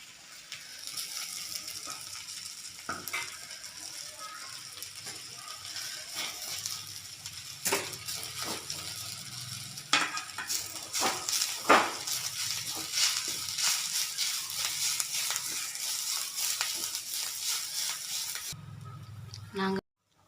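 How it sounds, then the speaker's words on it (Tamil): Drumstick leaves (murungai keerai) stir-fried with ground masala for poriyal in a pan, giving a steady close sizzle with scattered scraping and clattering stirs that run throughout and stop abruptly near the end. "இப்போ இது வதங்கின முருங்கைக்கீரையில் சேர்த்துக்கலாம்."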